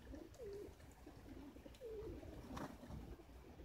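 Racing pigeons returning wet from a flight coo in low, soft repeated phrases at a distance, faint over steady background noise.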